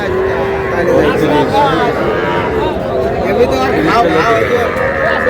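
Young bull calf moos among other cattle at Ambari cattle market, a drawn-out lowing over dense crowd chatter and people talking nearby.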